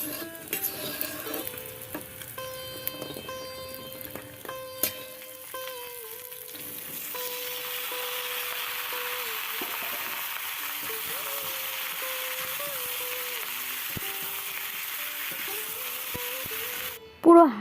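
Bori lentil dumplings fry and burn in a pan, giving a soft, steady sizzle that builds and holds, with some clatter and faint tonal sounds early on.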